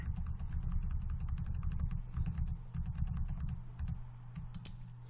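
Steady rapid clicking of computer keyboard keys as Python code is typed, close and continuous over a low background hum, with no speech.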